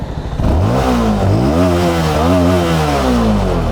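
A motorcycle fitted with its original stock exhaust revs up loudly and close by, its engine note rising and falling through several throttle blips without any talk over it.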